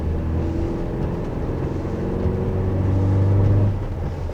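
A steady Chevrolet S10 pickup engine drones from inside the cabin while driving in the city, a low hum that swells slightly as the revs climb, with no one talking.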